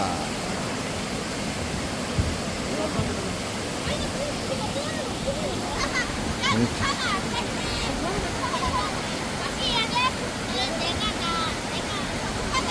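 Yongyeon Waterfall in Juwangsan National Park roars as a continuous broad wash of falling water, steady and fairly close, with scattered voices and faint chatter over it.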